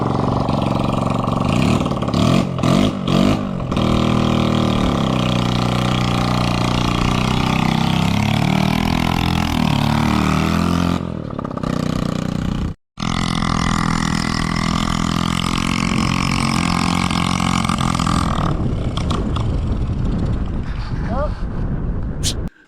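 A 1970s dirt bike engine runs close by during a test ride, rising and falling through repeated revs with a brief cutout partway through, and a voice is heard intermittently over it.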